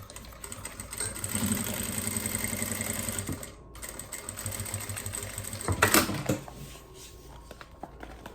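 A sewing machine stitches the side seam of a plastic toiletry bag, running steadily in two bursts with a brief stop between them and some handling noise near the end.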